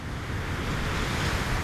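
Waves wash over a pebble beach in a loud, continuous roar of surf, with wind buffeting the microphone throughout.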